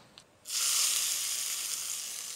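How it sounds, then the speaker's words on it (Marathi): Hot oil tempered with mustard seeds, hing and curry leaves is poured onto chutney, bursting into a loud, sudden sizzle after a brief quiet moment and then hissing steadily as it settles. "आता फोडणी चटणीवर ओतायची"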